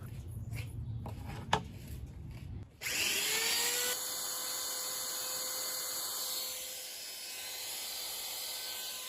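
A high-pitched rotary tool whines steadily as it carves out the recess for the blade root in a knife handle, starting abruptly after a few seconds of quieter handling noise and holding a sustained, close-up grinding tone.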